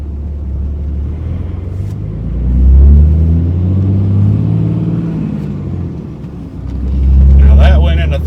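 A 2003 Dodge Cummins diesel pickup with an NV5600 manual transmission pulls hard, its deep engine rumble rising, easing off and building again as it shifts up through the gears, loud and steady from inside the cab.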